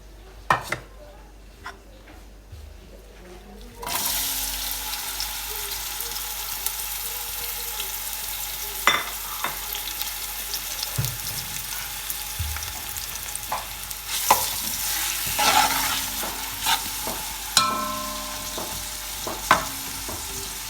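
Onions frying in oil in a pan while cooking mutton yakhni pulao, a steady close sizzle starting after a quiet moment, with occasional stirring clinks and scrapes over it.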